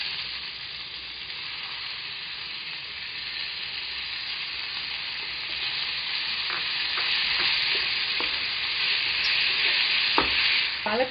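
Spinach sizzling in a pan with fried onion, a steady bright hiss that grows slightly louder, broken by scattered clicks and scrapes of a spoon stirring.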